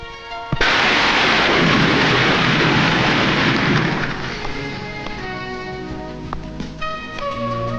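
A heavy crash of thunder rolls through a stormy night in a horror film scene, with a loud, broad roar that slowly fades as music swells beneath it.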